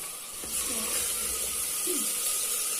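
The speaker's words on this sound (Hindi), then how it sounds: "और अब इसमें हम ये लहसुन अदरक का पेस्ट डालते हैं। और इसको दोबारा से हम भूनेंगे।" Garlic-ginger paste frying in a pan for a Punjabi chicken handi, a steady loud sizzling hiss that holds throughout with no talking.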